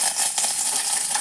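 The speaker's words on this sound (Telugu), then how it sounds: "ఇదిగో పప్పు తాలింపు" Tempering for mango dal sizzles hard in a hot pan, a short, bright, continuous crackle and hiss heard up close with no talking.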